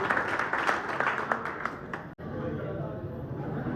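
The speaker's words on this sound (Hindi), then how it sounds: "इस बात के लिए ताली बजाओ मोदी भाई को" Crowd applause and scattered claps for a guest at a pigeon lovers' club gathering in Moradabad, loud and continuous with murmuring voices underneath, briefly cutting out midway before resuming.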